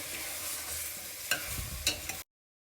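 Chicken stir-fried in a pan sizzles steadily and softly at close range, with a couple of sharp utensil scrapes near the end before it cuts off.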